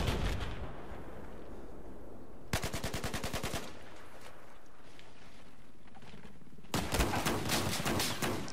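Semi-automatic sniper rifle fire in Battlefield 4 multiplayer on PS4: two bursts of rapid, evenly spaced sharp shots, the second louder and longer, over a quiet in-game background.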